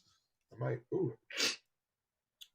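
A single person sneezes close by, two quick voiced gasps building into one sharp, breathy burst, then quiet.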